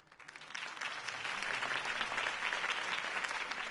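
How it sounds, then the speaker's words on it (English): A crowd at a political speech applauds in the Batman Telltale video game, a dense, steady clapping that swells quickly and holds at moderate level. "could have heard that applause"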